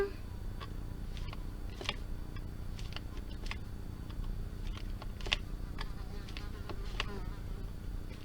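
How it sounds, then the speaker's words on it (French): A large housefly buzzes around indoors, its close, irregular droning hum rising and falling as it moves about, with small clicks and taps scattered through the quiet room. "il y a une grosse mouche qui vient de rentrer"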